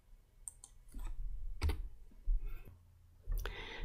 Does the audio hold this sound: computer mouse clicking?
yes